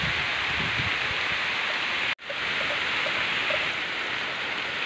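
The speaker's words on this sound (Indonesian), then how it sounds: "karena hujannya sangat besar ya guys" Heavy tropical rain pours steadily in a village area near a hidden cave, a dense, even hiss cut by one momentary dropout, with no talking over it.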